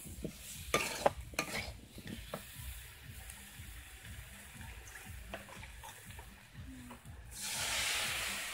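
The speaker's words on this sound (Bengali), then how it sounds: "মশলাটা ভালো করে কষাতে থাকবো যতক্ষণ পর্যন্ত মশলা মানে একদম তেল ছেড়ে না আসবে" Spice masala with salt, turmeric and chili powder frying in oil, quiet hissing sizzle with scraping stir strokes early on, a soft rushing swell near the end.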